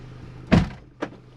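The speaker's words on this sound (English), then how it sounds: "and then that will also lock the habitation door" Two mechanical clunks of a motorhome's central locking engaging, a sharp thunk followed half a second later by a softer click, over a faint engine hum.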